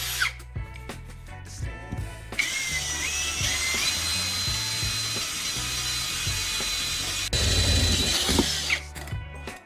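A power drill bores a hole through a round metal spray paint can, giving a steady, loud whirring grind with a high metallic whine that runs for several seconds, surging near the end before stopping.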